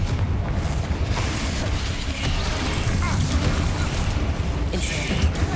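Fiery Confringo spell blasts in Hogwarts Legacy, a dense run of booming explosive bursts and rumble filling the whole stretch, loud and close, with sharp popping accents near the end.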